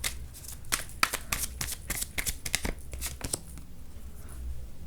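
Tarot cards riffle, slap and rustle in a close series of quick crisp shuffles and draws, with irregular bursts of card noise over a quiet background.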